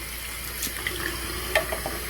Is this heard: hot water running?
yes